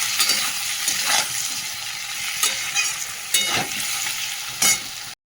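Vegetables fry in a pan with a little salt and turmeric, giving a steady sizzle throughout while a spatula stirs and scrapes in several distinct strokes. The sound is close and loud and cuts off abruptly at the end.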